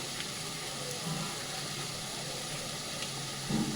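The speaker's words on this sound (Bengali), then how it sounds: "এবার এগুলো ভালো করে চিকেনের সাথে কষিয়ে নেব দিয়ে দেবো কালার লঙ্কার গুঁড়ো" Chicken sizzles in a pan with chili powder and spices, a steady low hiss that holds at an even, moderate level throughout.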